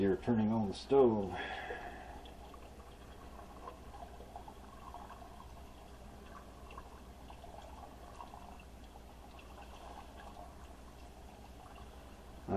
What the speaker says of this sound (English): I pour it in slowly so it doesn't create a big bubble in there.